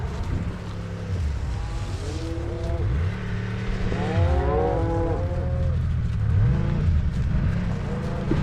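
Cattle moo repeatedly on a cattle drive home as cows and calves are moved for weaning, several overlapping drawn-out calls near and far over a steady rumbling background.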